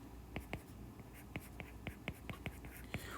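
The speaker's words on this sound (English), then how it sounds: "I'm going to go ahead and still write it in." A pen or pencil writing out a physics answer by hand, roughly a dozen short, scratchy strokes in an irregular rhythm, close and soft over a steady low room hum.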